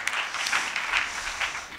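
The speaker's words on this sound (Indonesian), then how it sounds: "Berikan tepuk tangan yang meriah buat Tuhan kita" Congregation applauding for God during a church service in Malang, a steady, dense wash of clapping that holds for nearly two seconds without pause.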